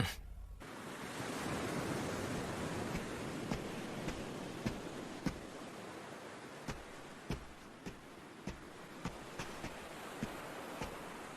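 Ocean waves wash onto a beach as a soft, continuous surf hiss, faint and distant, with a series of light, sharp ticks scattered through the latter half.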